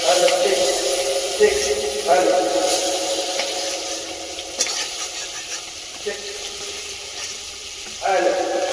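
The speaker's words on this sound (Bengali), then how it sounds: "কাঠের জালে তো খুব সুন্দর করে ভাজা হয়েছে মাছগুলো" Fish frying in a pan over a wood fire, a steady sizzle running throughout with occasional stirring and scraping bursts, fairly close and moderately loud, and no clear talk over it.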